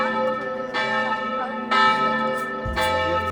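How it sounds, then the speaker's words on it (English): Church bells at a small evangelical church beside Laufen Castle at Rhine Falls, ringing in several loud, resonant strikes with long overlapping hum, heard clearly and without talking. "I could also hear the church bells ringing."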